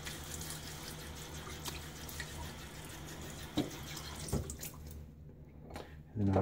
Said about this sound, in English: A little splash.